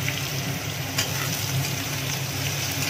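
Carrots fry in a pan for homemade fried rice, giving a loud, continuous close sizzle with a soft stirring texture and no voices.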